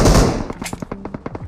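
Gunfire in the mobile battle royale game PUBG Mobile: a loud opening burst, then a rapid string of sharp automatic shots at an even rhythm, close and uninterrupted by speech.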